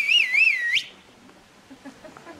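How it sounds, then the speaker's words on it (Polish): A steam locomotive whistle on a train bound for Kościelisko sounds one wavering, warbling blast lasting under a second. It cuts off abruptly into quiet background noise. "To gwizdnij tam, puść parę."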